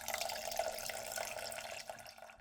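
Water pours into a pot for Gulab Jamun sugar syrup, a steady splashing, gurgling stream close by that tapers off near the end, with no talking.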